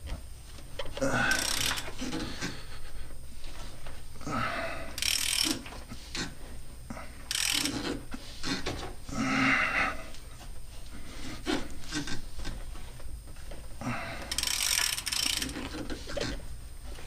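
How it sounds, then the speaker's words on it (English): A ratchet cranks a Toyota 4.7L V8 engine over by its crank bolt in a first-generation Tundra, giving repeated bursts of rasping, clicking strokes with short pauses between them and no talk. "So you put your crank bolt back in and just crank the motor over."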